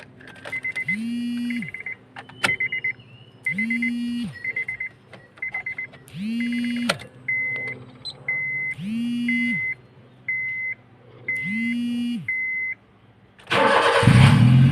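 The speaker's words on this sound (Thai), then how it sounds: "เรามาดูกันว่า สตาร์ทติดหรือเปล่า" A car with its immobiliser chip moved into a new red-logo flip key chimes and beeps in repeated patterns as the ignition cycles, then the engine cranks and roars into life loudly at the end.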